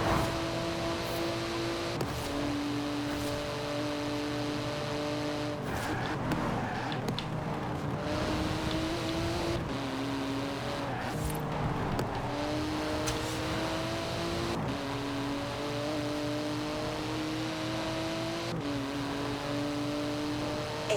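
Engine of a Mercedes 6x6 truck at full throttle in Forza Horizon 4, a steady loud drone climbing in pitch through repeated gear shifts, each upshift dropping the tone before it rises again.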